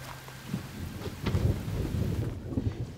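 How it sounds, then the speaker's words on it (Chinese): Rain falls steadily outside while a low roll of thunder rumbles close by and swells midway, with no talking. "外面下雨呢。"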